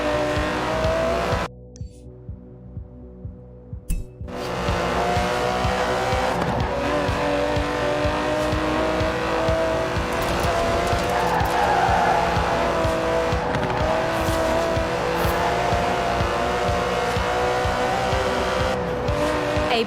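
An Aston Martin DB11 with a 5.2-litre twin-turbo V12 races in Forza Horizon 4, its engine roaring loud and sustained with tire squeals, briefly dropping off near the start before surging back to full power.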